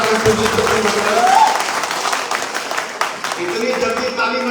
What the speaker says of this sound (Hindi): इतनी जल्दी ताली मत बजाइए